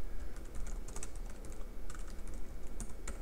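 Close, rapid clatter of keys as code is typed on a computer keyboard, a continuous stream of uneven keystrokes with small pauses and no speech.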